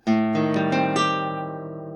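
A single guitar chord, its strings strummed in quick succession, rings out clearly and slowly fades away.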